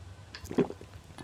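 Lake water being drunk in the Mist Survival game, a short wet gulping splash in the middle with faint drips around it against quiet surroundings.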